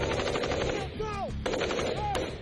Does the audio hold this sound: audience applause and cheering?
no